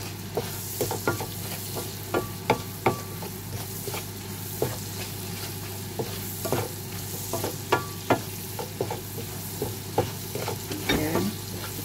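Melted butter and seasoning cubes being stirred in a frying pan while cooking tahong (mussels): a steady sizzle with repeated scraping strokes of the spoon against the pan, close up and without talking.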